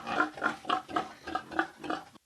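Pigs on a pig farm grunting and oinking in a steady series of about eight short, evenly spaced grunts, close and clear, with no talk.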